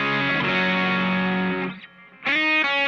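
An electric guitar played through the neck pickup into Mojo and Dark Matter distortion pedals rings out as a sustained, thick distorted chord, fades briefly, then comes back with a fresh, loud strum.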